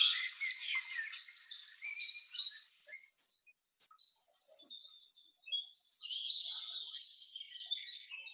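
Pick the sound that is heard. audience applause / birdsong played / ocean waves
birdsong played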